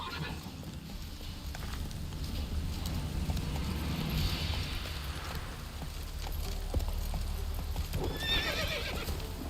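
In The Witcher 3 video game, the horse Roach gallops with steady rapid clip-clop hoofbeats, and a whinny rings out near the end, all loud and close.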